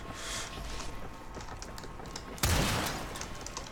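Gunfire from a player's gun in the video game Warframe: scattered light shots and clicks, then one sharp, loud blast that rings out and slowly decays.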